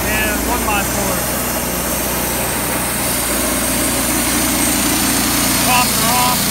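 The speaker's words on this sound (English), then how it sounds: "cold weather milling, Woodmizer LT-15. We're milling out 1x6s and 1x4s." A Wood-Mizer LT-15 portable sawmill runs in cold weather while milling 1x6 and 1x4 boards, its engine a steady, close drone throughout, with a few faint higher squeals or chirps over the top and no clear talking.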